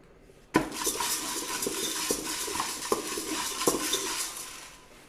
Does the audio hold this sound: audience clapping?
no